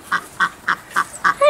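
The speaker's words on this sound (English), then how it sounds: "One lone duck." A single duck quacks on a farm, giving five or six short, evenly spaced, fairly loud calls close by, with a slightly longer call at the end and no talking.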